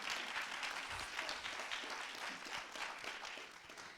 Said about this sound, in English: please another round of applause for Osley, My Africa